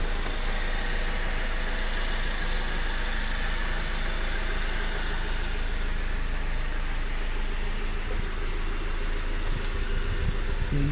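A Honda Accord four-cylinder sedan idles with the hood closed, giving a steady, even engine hum with a faint rhythmic ticking, continuous and unchanging for the whole stretch, with no talking.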